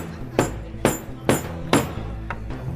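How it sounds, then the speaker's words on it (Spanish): A hammer strikes pitons to loosen them during a timed televised game-show challenge: four evenly spaced, sharp metallic blows, then a fainter fifth, over a busy studio background. "Mientras más trayectoria tiene el martillo, más efectivo es."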